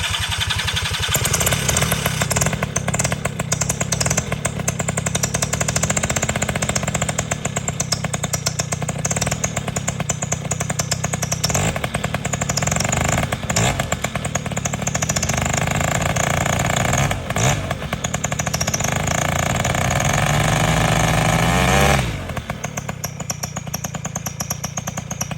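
Electric-start paramotor engine outdoors on a morning flight, running loud and close for the whole stretch as a dense rattling two-stroke drone with small throttle swells, then cutting off abruptly near the end.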